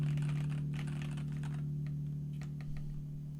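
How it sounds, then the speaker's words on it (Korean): Light typing on a Dygma Defy ergonomic keyboard, a quick run of soft key clicks over a steady low electrical hum, fading off toward the end. "이렇게 흔들리지 않는 선에서 이렇게 타이핑을 할 수가 있다는 거죠"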